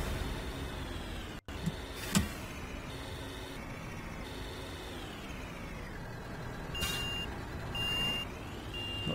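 Reversing beeps from a garbage truck in the Cityconomy video game, steady repeated electronic tones over a low engine hum, with a few clanks and mechanical whirs mixed in.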